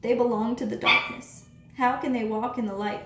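A dog barks in the room, a quick burst near the middle while a man preaches steadily before and after it.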